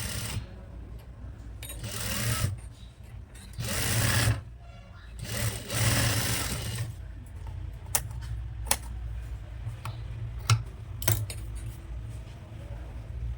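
A sewing machine stitching a frock-style nighty gives several short, close bursts of whirring, followed by sharp clicks and handling taps, with quiet gaps between.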